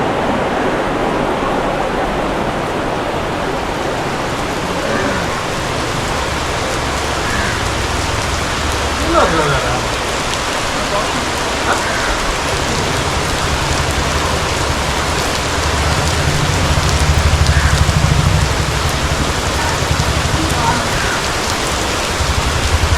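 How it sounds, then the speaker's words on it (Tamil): Heavy rain pours down at the international cultural centre in Auroville, Puducherry, a loud, dense and steady hiss of water that continues throughout and swells slightly toward the end. "எப்படி மழை கொட்டுது பாருங்கள்"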